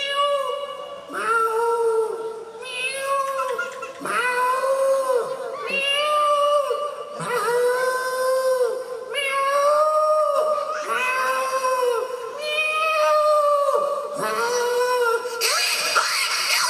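A comedian at a Marathi haldi ceremony imitates cats fighting with his voice: a steady run of wailing, rising and falling yowls and meows that swell into harsh caterwauling, loud and close, with a crowd faintly behind.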